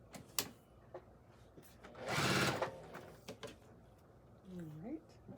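Sewing machine stitching quilt pieces for a Churn Dash quilt top, a loud continuous whirring run of about half a second mid-clip, with brief clicks and handling taps before and after and a short voice near the end.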